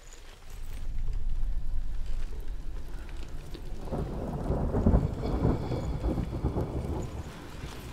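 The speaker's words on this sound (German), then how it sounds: "Nicht, dass es schon wieder regnet." Video game rain and thunder in Hellblade: Senua's Sacrifice: steady rain patters while a deep roll of thunder swells and rumbles through the middle, fairly close and lasting several seconds.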